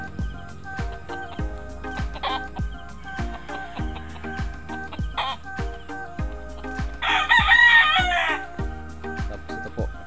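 A young gamecock stag crows loudly and close by on a Filipino gamefowl farm, against a steady backdrop of regular clucking and other fowl noises.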